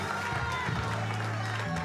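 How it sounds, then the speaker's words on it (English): Sunday-service churchgoers give a continuous round of hand clapping in praise, an even crackle of many hands layered over held low organ-like notes. "Let's give God a hand clap of praise."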